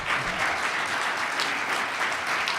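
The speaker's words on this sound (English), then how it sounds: "can we have a round of applause for our great legislators" An audience applauds the legislators at a political gathering, with steady, dense clapping from many hands sustained throughout, loud and close, with no talking over it.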